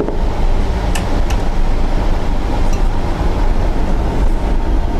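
A local train at an Indian railway station gives a steady, loud rumble and rolling clatter that fills the whole stretch, with faint station noise mixed in.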